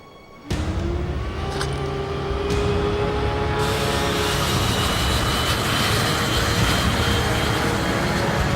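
A training jet engine in the Ace Combat 5 video game starts with a sudden roar that swells into a steady, loud, close whine and rushing hiss, holding strong to the end.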